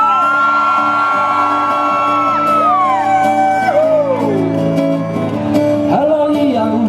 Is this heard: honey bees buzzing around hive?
no